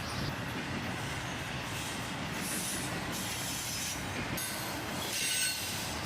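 A long line of CSX intermodal freight cars rolls under a bridge, wheels rumbling and squealing steadily on the rails in one continuous, moderately distant passage.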